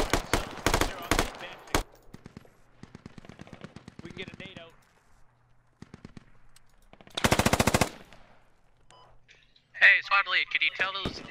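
Rapid automatic gunfire from Stryker armored vehicles in the military shooter game Squad comes in loud, dense bursts, near and harsh, separated by gaps while players talk over the radio and shout between volleys.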